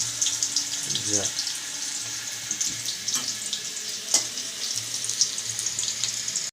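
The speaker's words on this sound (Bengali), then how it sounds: "দেখো মাংসের আলুগুলো সেদ্ধ করেছিলাম এটা এবার লাল করে ভেজে তুলে রাখবো" Boiled potatoes fry in a pan as they brown, giving a steady, fairly quiet hiss with faint stirring and water-like crackles throughout.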